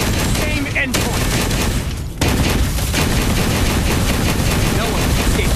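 Gunfire in the video game Wuthering Waves: a dense, nonstop rattle of rapid shots with brief gaps, loud and close, with a voice speaking over parts of it.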